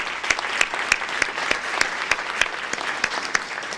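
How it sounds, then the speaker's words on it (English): Applause from the audience at a panel discussion, a short burst of steady, moderately close clapping with individual claps standing out in a fairly even rhythm. "Please give him a round of applause."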